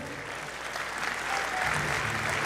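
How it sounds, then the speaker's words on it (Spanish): A church congregation applauds during a sermon, with steady, dense clapping from many hands that swells slightly louder partway through and fills the room. "Dele fuerte el aplauso al Señor."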